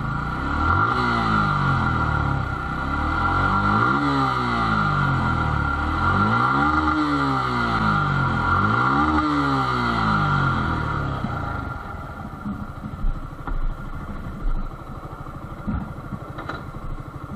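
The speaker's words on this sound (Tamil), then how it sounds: "ஸோ எக்ஸாஸ்ட் நோட் கேளுங்க" A Suzuki Gixxer SF ABS FI motorcycle exhaust note revs up and down repeatedly, rising and falling in pitch, then settles into a lumpy idle with clattering pulses.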